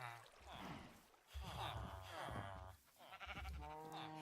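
Minecraft sheep bleat several times in quick succession, wavering nasal cries that overlap and repeat, fairly close and clear, with a faint trickling sound beneath.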